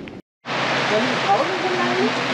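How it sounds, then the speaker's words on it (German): Heavy rain pours down at a marina in Polynesia, a dense, steady hiss that starts after a brief pause and stays loud and unbroken. "es regnet richtig"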